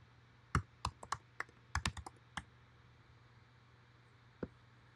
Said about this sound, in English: and then typing password.